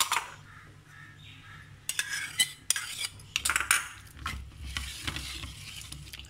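Chicken wings with ginger, garlic, vinegar and chili sauce are mixed in a bowl, quiet at first, then bursts of clattering utensil scrapes and wet squelching stirs, close and loud, with no one talking.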